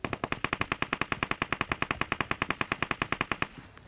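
Rapid automatic gunfire in a video game, a steady burst of about thirty evenly spaced shots over three and a half seconds, loud and close, then cutting off abruptly.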